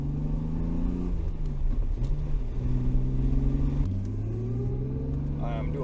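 S52-swapped BMW E34 engine revving loudly and close, pitch climbing steadily in two rising sweeps with a brief dip and shift near the middle, under occasional talk.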